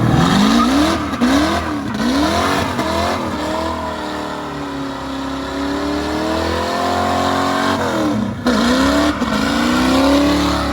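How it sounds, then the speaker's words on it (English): A Ford Mustang does a big burnout, its engine revving hard in repeated rising and falling surges, then holding a long steady wail before more sharp revs, loud and close with tire noise underneath. "when we got back, he did a nice big burnout"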